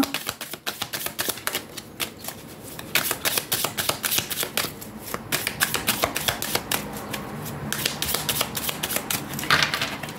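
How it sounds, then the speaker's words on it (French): Tarot cards shuffled by hand for a reading, a dense rapid riffling and flicking of cards that continues near and clear, with a few short pauses and no talk. "Je vais prendre quelques cartes. Allez, troisième tirage."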